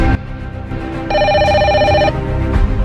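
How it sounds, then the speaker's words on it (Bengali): A telephone rings with an incoming call, a single electronic ring burst lasting about a second over a continuous low background hum. "এই অসময়ে আবার ফোন দেয় কেডা?"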